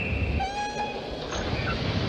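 A steam train starts moving out of the station, with a rolling rumble, faint whistle tones and light clanking heard at moderate distance, steady and continuous.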